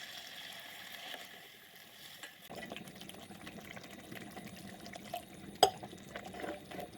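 Hot water poured into shrimp curry masala frying in a pan, a faint low splash and bubbling that builds after a quiet start, with one sharp knock near the end.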